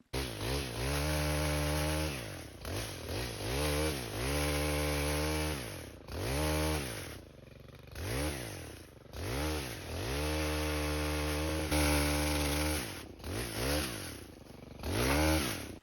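A gas pole saw cuts through tree branches, its two-stroke engine revving hard in repeated surges and dipping between cuts, loud and close with no talking.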